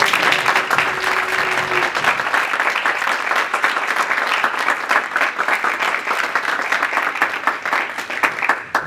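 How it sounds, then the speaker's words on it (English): A conference audience claps steadily for the interpreters and technician at a closing session, dense applause that holds at an even level throughout, with no voices over it. "Ladies and gentlemen, help me to applause Lívia, Cecilia, and the technician Fernando."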